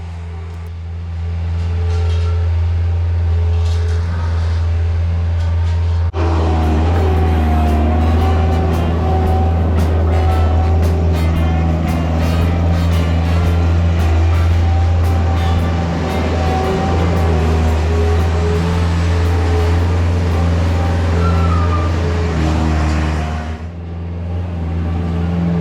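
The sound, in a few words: skid steer grading a pole barn site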